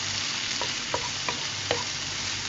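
Onions and mushrooms sizzle steadily in a pan while a utensil stirs them, a few distinct scraping strokes over the constant close frying hiss.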